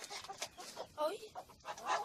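Orpington chickens cluck softly at close range in a farmyard, a string of short, uneven clucks and murmurs.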